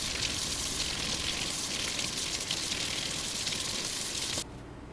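Broad steady hiss of tap water running over carrots being washed in a kitchen sink, continuous and fairly close, cutting off abruptly near the end.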